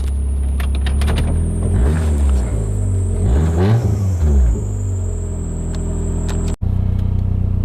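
A mud motor engine mounted on a motorized wheelbarrow revs up and down in several rising and falling sweeps, loud and close, before settling into a steady idle.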